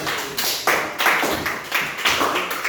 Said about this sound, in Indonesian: Tepuk tangan untuk Robi.